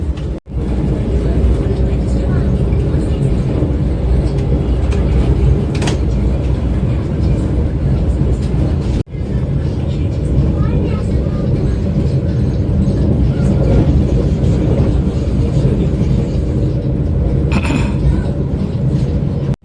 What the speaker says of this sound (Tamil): எல்லா ஸ்டேஷனுமே ஸ்லோவாக தான் ஸ்கிப் ஆகுதுங்க நம்ம வந்தே பாரத்